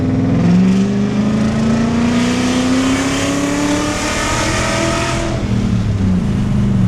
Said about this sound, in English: You hear that V8 sound, and it moves.